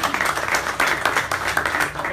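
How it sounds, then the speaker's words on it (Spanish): An audience at a club gathering gives a round of applause, a dense wash of clapping that continues steadily for a couple of seconds. "Otro aplauso."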